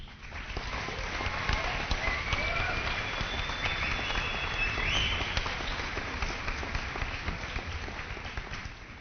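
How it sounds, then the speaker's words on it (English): Crowd applause at a 2017 high school graduation ceremony, a broad steady patter of many hands, fairly loud and sustained throughout, with faint whistles and a few voices mixed in. "We all deserve a round of applause."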